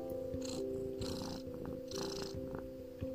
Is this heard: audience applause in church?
no